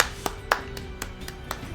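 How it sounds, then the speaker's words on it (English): Sparse applause during a live speedrun event of NieR: Automata, a handful of distinct claps at an uneven rhythm, moderately close and fairly quiet, with no voices over them. "Thank you for the applause."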